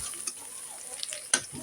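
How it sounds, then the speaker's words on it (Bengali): Garlic frying in a pan, cooked until reddish: a quiet, steady sizzle with a few sharp clicks and taps from a utensil, heard close with no talking. "এই রসুনটা আমি একটু লালচে করে নিব।"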